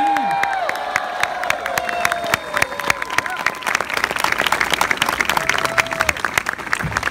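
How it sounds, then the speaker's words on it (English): Crowd at an outdoor anniversary demonstration applauds and cheers for LAPD officers, with dense, sustained clapping and scattered whoops and shouts rising through it from start to finish. "How about a big round of applause for the LAPD?"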